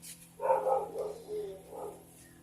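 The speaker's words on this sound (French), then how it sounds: "je savais qu'elle allait aboyer" A pet dog barks a few times indoors in a home craft room, moderately near but fairly soft, the yips clustered and then one more bark after a short pause, no talk over them.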